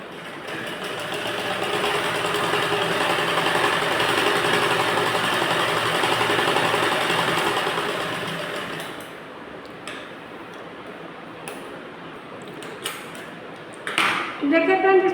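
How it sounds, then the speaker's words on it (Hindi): A sewing machine stitches across blouse fabric with a loud, continuous whirring run of about nine seconds. It then stops, leaving quieter handling noises and brief clicks, with a voice coming in near the end. "हम पूरे फैब्रिक में सिलाई लगाएंगे इस तरह से"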